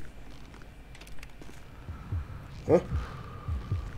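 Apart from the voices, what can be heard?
heartbeat sound effect in video game Grand Theft Auto V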